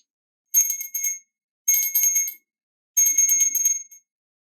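A small handheld bell rings three times in even succession, each ring bright and metallic, close and fairly loud, with short silences between the rings.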